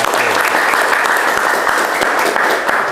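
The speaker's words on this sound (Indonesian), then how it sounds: "kita tepuk tangan untuk kelompok" A classroom group claps loudly and evenly for a student team in an automotive engineering lesson, a thick continuous patter of many hands held for the full three seconds with no talking over it.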